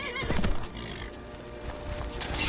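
A horse in Skyrim neighs with a sharp whinny near the start, followed by clip-clopping hooves and game ambience, close and fairly loud.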